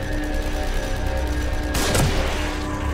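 A single sharp gunshot in the survival horror game The Evil Within, loud and close, cutting through a steady droning game background before fading quickly.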